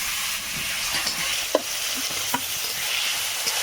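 Eggplant slices frying in a pan of oil: a steady, dense sizzle throughout, broken by a few soft clicks and stirring knocks, with no talking.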